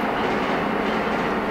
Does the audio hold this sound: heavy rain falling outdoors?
no